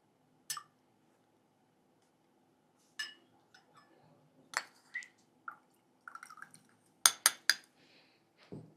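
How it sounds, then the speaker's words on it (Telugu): Lemon juice poured and stirred into a glass of water for a drink, heard as sparse soft clinks, taps and drips against glass, quiet and close, with long silent gaps between them. "మనం ఏదైతే లెమన్ జ్యూస్ తీసుకున్నామో ఆ లెమన్ జ్యూస్ని ఇందులో మిక్స్ చేసేయాలి"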